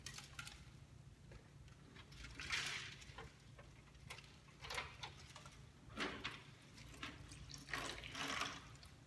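Water drizzled and then poured over a small tabletop watershed model to simulate rain, giving a soft continuous patter with a few louder splashy surges, close up and without talk.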